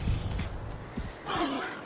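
A horse in Assassin's Creed Valhalla, with close hoof clops and a whinny near the end, heard beneath faint talk and other game sounds.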